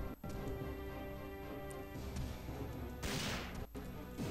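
In the Resident Evil 3 video game, a gunshot cracks out amid tense game audio with a droning background and a couple of sharp bursts, without any talk.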